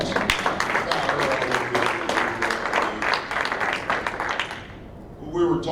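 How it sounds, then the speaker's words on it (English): A room full of people gives a sustained round of applause in a public outreach subcommittee meeting in Wheeling, West Virginia, dense broadband clapping that fades out near the end. "I like to give her a nice round of applause"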